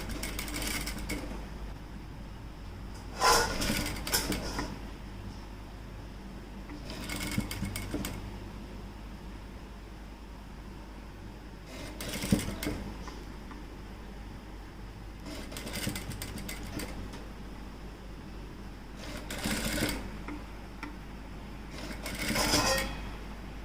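A sewing machine stitching a blouse sleeve runs in short rattling bursts every few seconds, separated by quiet pauses while the fabric is repositioned, fairly soft and close.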